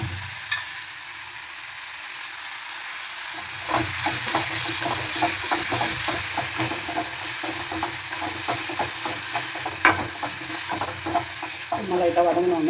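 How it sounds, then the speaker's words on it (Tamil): Onion, green chili, carrot and coconut sauté in a pan for thavala adai batter, a steady sizzle and hiss with repeated scraping stirs from a spoon. "வெங்காயம், பச்சை மிளகாய் எல்லாம் போட்டு வெங்காயம் வதங்கினோடனே இந்த கேரட்டையும் தேங்காய் போட்டு"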